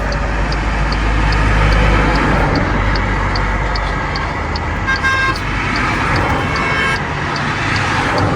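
A 2025 MG Cyberster electric sports car in super sport launch mode, a loud steady road and wind roar with a faint repeating high tone and a brief horn-like toot near the end.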